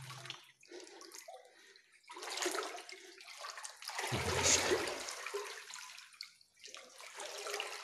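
Water sloshes and splashes as someone wades about a metre deep through a flooded multi-level cellar system in Eger, with irregular surging swishes and gurgles echoing in the enclosed space.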